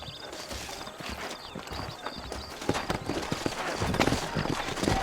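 Horse hooves clip-clop in the Western video game Red Dead Redemption, set in the New Austin region. A steady run of close, uneven hoof knocks sits over ambient game sound, and it grows louder and denser toward the end.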